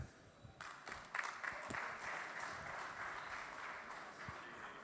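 Conference audience applauding at an RWA livestream event in Munich, a fairly quiet, distant wash of clapping that swells after a soft start and holds steady to the end.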